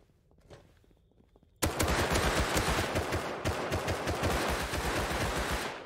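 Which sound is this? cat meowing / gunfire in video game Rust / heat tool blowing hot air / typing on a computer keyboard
gunfire in video game Rust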